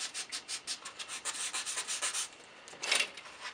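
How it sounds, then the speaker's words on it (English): Folded sandpaper rubs back and forth on a wooden edge and corner during model assembly, about a dozen quick, even strokes, then a short pause and one last pass, close and alone. "I've folded the sandpaper here on the edge to get into that corner."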